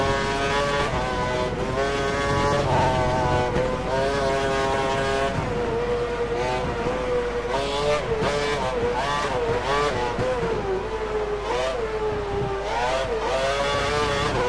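A race car engine revs continuously in a Formula 1 video game, its pitch climbing and dropping through gear changes as the car is pushed hard, loud and close throughout with no pauses.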